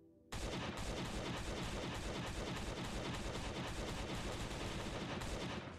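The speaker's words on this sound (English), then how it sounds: "I want to shoot this turret." Dense, continuous automatic gunfire in a video game as a player shoots at a turret, a rapid unbroken fusillade starting abruptly and staying loud throughout with no talk.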